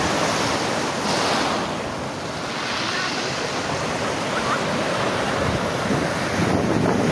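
Strong ocean waves surge and crash at a beach in a continuous loud roar, with gusting wind buffeting the microphone throughout.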